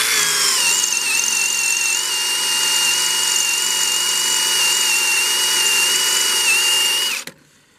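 A power drill screams continuously at high speed while drilling out rivets on a Mercedes Vito W639 van's front lower control arm, loud and close, then stops abruptly near the end.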